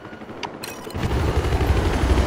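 Helicopter rotor drone from a Battlefield 4 match, rising after a short burst of gunfire-like pops into a steady low rumble that holds loud and close to the end, with no talking over it.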